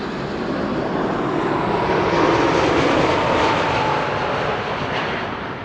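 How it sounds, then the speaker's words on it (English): A KLM Boeing 787-10 Dreamliner arriving at Amsterdam Schiphol from Las Vegas passes with a loud, sustained jet roar that swells mid-pass and then slowly fades, no voices heard. "This is KLM Flight 636 arriving from Las Vegas."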